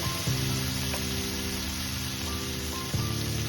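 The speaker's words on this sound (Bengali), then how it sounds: "আবার একটু জল দেব আবার কষাবো" Masala spices sizzle and fry steadily in a pan while being cooked down with small splashes of water for a paneer dish, a continuous close crackle with a couple of sharp bursts.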